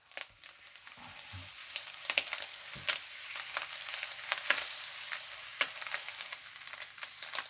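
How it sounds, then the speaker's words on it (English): Butter sizzles in a dry frying pan while eggs cook, a steady bright hiss with scattered sharp pops and crackles and a few soft stirring knocks, fairly quiet and close with no talking. "We're gonna add a little bit more butter because my fry pan is getting a little bit dry."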